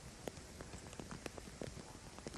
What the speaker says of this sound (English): That is the rain, trackside.